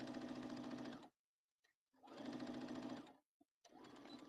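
A sewing machine back-stitches a seam on a bomber jacket in three steady, humming bursts. Short silent pauses separate the bursts as the stitching direction reverses.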